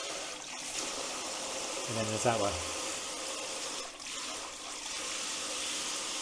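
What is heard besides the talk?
Mira Sport electric shower spraying water in different patterns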